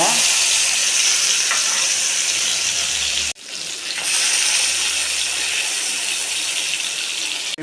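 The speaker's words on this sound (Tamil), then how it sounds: "மசாலா தடவி வச்ச வஞ்சர மீன் இதில் வச்சிடலாங்க." Masala-coated vanjaram fish fries in oil in a pan, a loud, close, continuous sizzle that briefly drops out as the pieces are turned, then returns at full strength.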